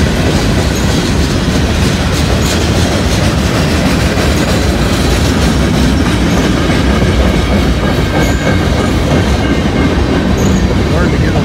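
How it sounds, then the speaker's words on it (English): A freight train about a mile and a half long rolls past up close, a loud steady roar of wheels and clattering cars that carries on without a break. "About a mile and a half long train here."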